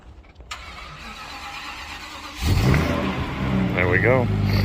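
A Winnebago Sightseer motorhome after a jump start: a quiet pause, then the engine cranks and catches at once, settling into a loud, steady, rumbling idle that continues to the end.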